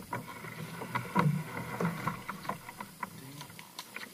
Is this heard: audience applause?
no